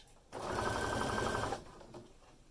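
A sewing machine stitches clear elastic onto a pair of briefs in a single rapid, even whir of about a second, close and clear with no talking.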